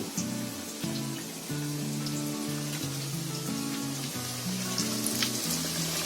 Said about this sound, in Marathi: आता आपलं तेल तापलंय. आता हे तेलामध्ये आपण एक सोडायचे.